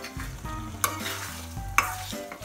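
Traditional goat liver and paneer gravy bubbles and sizzles in a pan while a spoon stirs it, with a couple of sharp scraping strokes over the steady close simmer and no voices.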